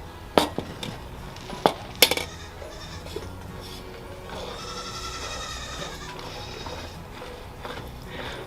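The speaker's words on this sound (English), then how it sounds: "Our goats are Nigerian dwarf goats, which is a miniature dairy breed of goat" Nigerian dwarf goats, a miniature dairy breed kept on an urban homestead, let out a drawn-out, wavering bleat after a few sharp clicks and knocks, fairly close against a quiet background.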